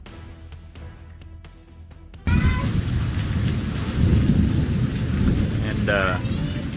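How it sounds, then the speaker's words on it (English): A thunderstorm in Texas: after a quieter opening with scattered clicks, a lightning strike crashes in abruptly and gives way to a loud, steady roar of heavy rain, with a brief high vocal cry near the end. "A lightning strike landed right beside him"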